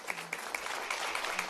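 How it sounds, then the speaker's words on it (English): Fairly faint, steady applause from a small audience at a public school board session honoring a group of applicants, with individual claps audible in a short burst. "let's give a round of applause to all of our applicants"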